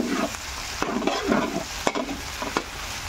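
A spoon turns sautéed pinakbet vegetables and shrimp paste in a pan, with a loud steady sizzle and repeated scraping strokes and sharp knocks against the metal at an uneven rhythm.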